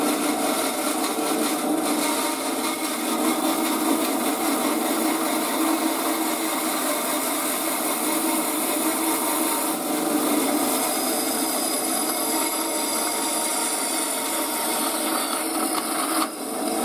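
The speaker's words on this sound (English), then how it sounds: "I have still got the wood blade in here, but it cuts the aluminium fine." A saw fitted with a wood blade cuts through aluminium in one long, steady pass, a bright rasping hiss that holds at even loudness throughout.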